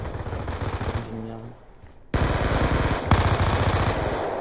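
Gunfire in the video game Call of Duty Black Ops 2 during a Domination match: rapid automatic bursts, loud and dense, broken by a short lull before firing resumes.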